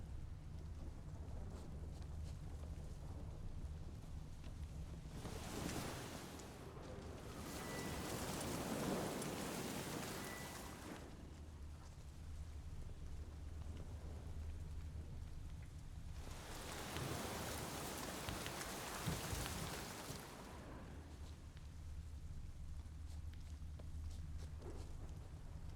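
Video game thunderstorm: steady rain patters throughout while two long rolls of thunder swell and fade, each lasting several seconds, at a soft, distant level.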